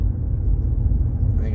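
A car goes by close at hand, a steady low engine and road rumble that swells a little toward the end, with a voice faintly present underneath.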